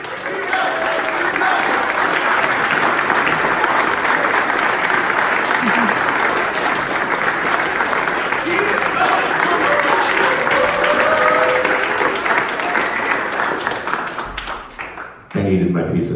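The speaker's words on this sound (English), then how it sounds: "But start clapping" A comedy club audience at a stand-up graduation showcase claps hard and continuously, a thick sustained wall of applause with some cheering mixed in, fading out abruptly at the end.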